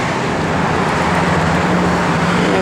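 Steady, loud road traffic rushes past without a break, a dense wash of passing vehicles close by.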